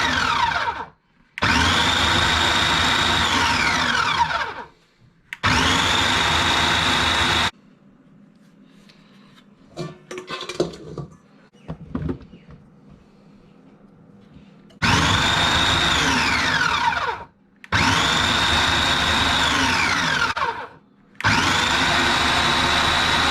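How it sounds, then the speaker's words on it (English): Food processor chopping about a pound of mushrooms, loud whirring pulses in several bursts of a few seconds each with quiet handling clatter between them and no talking. "throw them in my processor and give them a bit of a chop up"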